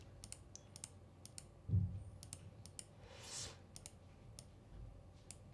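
Sparse, quiet mouse clicks on buttons in Ableton 12.1 software, a dozen or so sharp ticks at uneven intervals over a soft background hiss, with one duller thump partway through; no one speaks.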